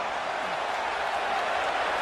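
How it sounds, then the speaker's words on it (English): Video game crowd in WWE 2K25 during a tag team wrestling match, a steady wash of cheering and applause from a packed arena, even and sustained throughout. "The crowd is reeling."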